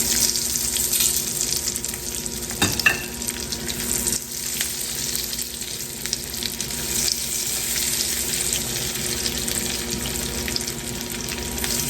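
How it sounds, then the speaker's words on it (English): Pork rind crusted chops sizzle in hot oil in a pan, giving a steady, bright, close crackle throughout, with one brief clunk early on. "We'll let these pork rind chops cook on this side"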